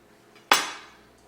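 A knife cuts into a crispy fried egg roll filled with smoked brisket, grits and caramelized onions, giving one sharp, close crunch that fades away quickly against a quiet background.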